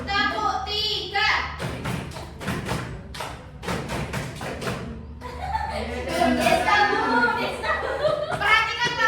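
Children in a classroom clap out a group rhythm pattern, a run of quick, crisp claps in the middle, surrounded by lively kids' chatter and chanting voices before and after.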